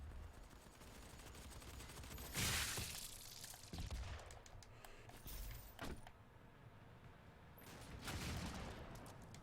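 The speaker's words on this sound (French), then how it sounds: "Retrouver mon copain le super fusil." Super shotgun blasts from the Doom beta video game, a few heavy booming shots spaced apart amid busy game noise, loud and close, with no talking.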